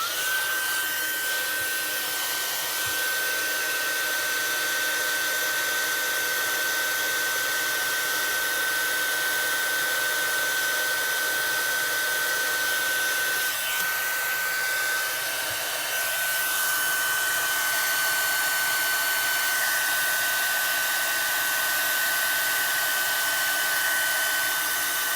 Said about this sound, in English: So we're going to bring our heat gun to that.